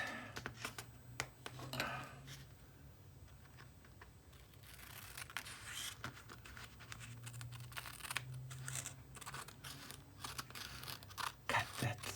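Scissors cutting paper while working in a gluebook, close and quiet, with repeated snips and paper rustles coming in bursts.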